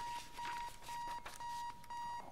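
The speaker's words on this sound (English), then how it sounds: "I have an alarm going off for reasons I don't understand." An alarm clock in Keep Talking and Nobody Explodes beeps in a repeating pattern of long electronic tones, with short gaps between bursts, loud and close, with no voices over it.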